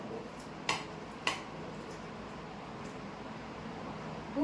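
Metal pot and serving spoon clink twice, sharp and close, as freshly cooked Bengali bhog khichuri with large potato pieces is served onto a plate, over a steady fan-like hiss.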